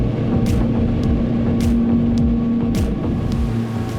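Four 500 hp Mercury racing engines on a motorboat rumble in a steady, fairly loud drone with a low sustained tone, broken by a few sharp clicks and thumps, and no voices.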